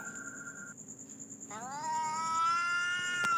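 A cat lets out a long, rising, wavering yowl over a faint background hum, drawn out and fairly close.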